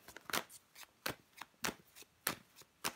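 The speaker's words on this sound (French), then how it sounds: "On va recouvrir des cartes" Tarot cards are laid one over another on a table in a steady rhythm of soft papery slaps and flicks, about two per second, close and quiet with no voices.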